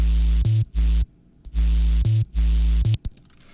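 A synthesized sub bass with added noise, distortion and compression plays in short, heavy, chopped bursts separated by abrupt silences, loud and alone in a colour bass remix.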